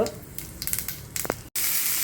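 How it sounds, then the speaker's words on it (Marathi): Mustard seeds and cumin crackle and sizzle in hot oil for a tempering, a close, steady frying hiss with small pops and a stirring scrape, ending in a sudden louder burst of sizzle. "मोहरी जिरं टाकून फोडणी करून घ्यायची"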